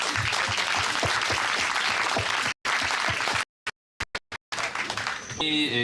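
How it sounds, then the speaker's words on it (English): An audience at a German medical school launch claps in a dense, continuous burst, interrupted by several abrupt silent cuts, before a voice begins near the end. "You also need applause."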